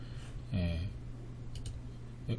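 A mouse clicks the reception button in Mighty Pro clinic reception software, giving a couple of faint, sharp clicks over a low steady hum, with a brief murmur of voice near the start.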